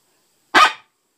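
A single short bark imitating a male coyote, blown on a handheld predator call, sharp and loud, standing alone against silence.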